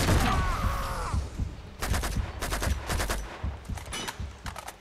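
Rapid automatic gunfire from a weapon in Uncharted 2, a loud opening burst followed by clusters of quick shots with short pauses between them, heard without talk.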